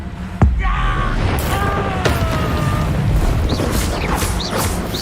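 A Confringo fire spell blasts in Hogwarts Legacy: a sharp, loud boom at the start, then a crackling, rumbling burst with whooshing tails and tonal magical shimmer, under an otherwise busy game soundscape.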